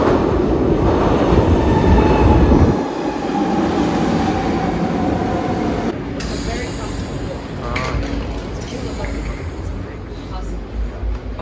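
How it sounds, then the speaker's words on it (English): Train ride on the way to Disneyland Paris: a loud, steady rumble of rolling carriages with a brief shift in tone partway through and faint squealing and rattling, continuous throughout with no clear talk. "we're going to take the train there."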